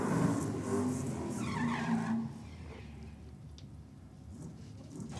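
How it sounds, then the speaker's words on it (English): A Holden Torana GTR XU-1 race car on slicks roars loudly past for about two seconds, then its engine note fades to a quieter, distant drone. "The sound of a beautiful looking GTR XU1 Tirana."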